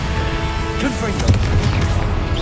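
Confringo blasting spell in Hogwarts Legacy, a brief booming blast with a sharp burst near the middle over a low rumbling bed, loud and close, with a voice heard in the clip.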